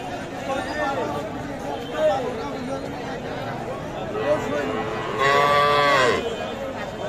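Cows mooing at a traditional cattle haat selling milking cows with calves, with a couple of drawn-out moos, one loud and close near the end, over steady crowd chatter and talk.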